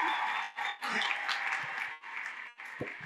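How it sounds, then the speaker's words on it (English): Church audience applauding, a dense run of clapping that swells and dips in several waves, fairly close and full, with no speech over it. "give a round of applause"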